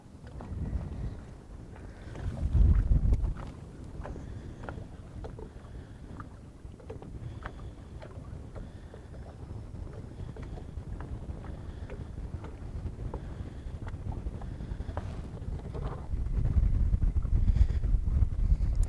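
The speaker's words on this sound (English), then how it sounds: "All of a sudden I got a wind coming up." Wind gusts across a lake around a fishing boat, rumbling against the microphone in swelling bursts with faint knocks and water movement underneath, no voices heard.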